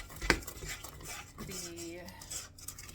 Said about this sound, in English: I actually found that just giving it a stir